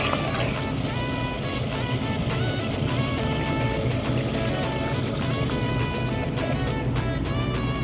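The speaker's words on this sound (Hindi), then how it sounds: "अब जैसा शोरबा चाहे उतना पानी डालें।" Water is poured into a pressure cooker of aloo gosht, making a steady, continuous splashing rush that lasts the whole stretch at an even level.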